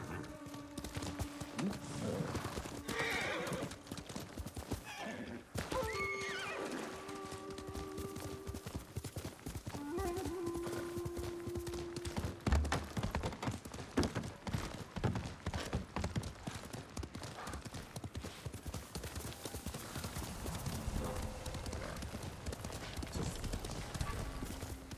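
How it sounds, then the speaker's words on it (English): Horse hooves clip-clop steadily through a busy scene in the video game Ghost of Tsushima, with a few whinny-like calls early on and scattered sharp cracks in the background. "Horse!"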